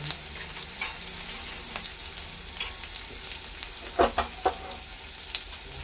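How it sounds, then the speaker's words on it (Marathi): Onion and garlic fry in hot oil for misal, a soft steady sizzle with a few brief clinks and stirring scrapes in the pan, heard up close with no talking. "एक साईडला लसूण ही चांगले तळून होते आणि कांदा व्यवस्थित तळला जाईल"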